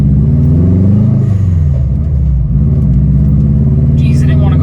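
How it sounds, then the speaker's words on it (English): A Subaru Forester STI on a base tune revs hard through a double downshift, its loud engine drone rising and dipping in pitch, then settling into a steady close-up roar. "just a good double down shift."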